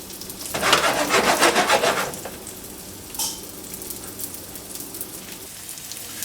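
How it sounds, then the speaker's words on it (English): Steady sizzling of chicken sautéing in olive oil in a pan, loudest early on then settling to a softer crackle, with no talking. "you're just sauteing them in a little olive oil"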